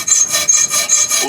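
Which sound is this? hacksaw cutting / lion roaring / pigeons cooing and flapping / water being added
hacksaw cutting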